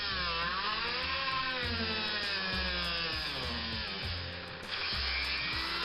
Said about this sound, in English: There we are, drilling it.